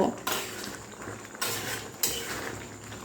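A pot of vegetarian ghugni being stirred: metal clatters and scrapes against the pot over a dense, continuous cooking noise, with a few louder knocks standing out.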